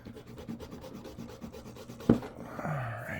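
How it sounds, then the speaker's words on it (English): Metal knife blade being rubbed and polished to remove dark rust, a steady scratchy rasping stroke close up, broken by a sharp clack near the end before softer scraping resumes. "You can see how I'm polishing that off."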